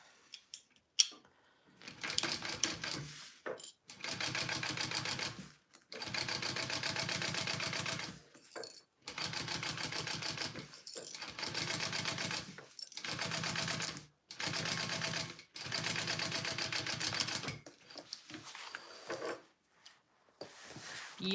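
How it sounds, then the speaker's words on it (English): Sewing machine top stitching fabric for a Zynah bag with a magnetic snap, running in several bursts of steady rapid stitching separated by short pauses, close and clear with no talk. "I'm just top stitching this real quick"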